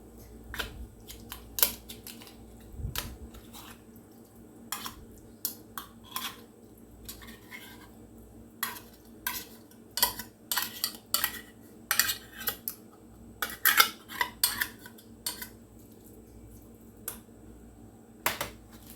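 Canned tuna scraped out of an opened can with a utensil, producing a run of sharp metallic clicks and scrapes in irregular bursts, close and fairly quiet, with no talking.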